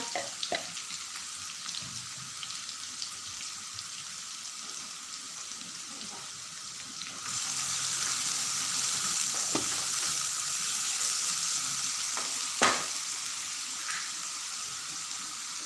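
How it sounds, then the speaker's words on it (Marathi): Onion sautés in a pan with a soft, continuous sizzle that grows louder partway through, punctuated by occasional scrapes and taps of a spatula; no voices are present. "जोपर्यंत आपला कांदा थोडासा लालसर गुलाबी होईपर्यंत परतवत आहे"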